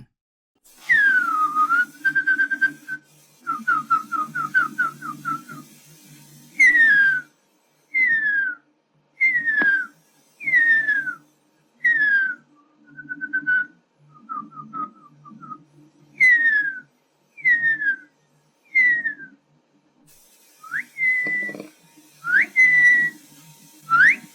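A person whistles a series of calls imitating the extinct huia bird, each a short descending or warbling phrase separated by pauses; clear and close.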